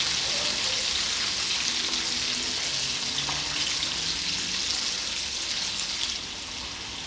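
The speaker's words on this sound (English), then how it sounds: "Place it quickly into the oil," Sesame-coated chicken strips fry in a Chinese chef's hot oil with a dense, steady sizzle that crackles continuously and eases slightly near the end.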